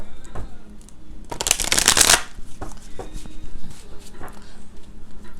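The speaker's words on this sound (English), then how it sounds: "I'm just going to consecrate the cards whilst I do a little shuffle." Deck of tarot cards being shuffled by hand, one brisk riffling burst of about a second close to the microphone, followed by softer handling taps and rustles.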